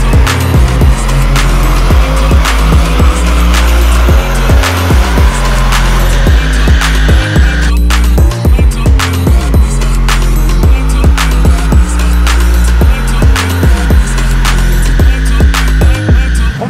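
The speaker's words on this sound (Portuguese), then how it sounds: "vamos passar no carro no dinamômetro pra gente ver a real potência do Abarth." Fiat Pulse Abarth 1.3 turbo running on a dynamometer, loud and close, with the engine repeatedly revving up through the gears in rising sweeps and abrupt shifts over a constant roaring drone.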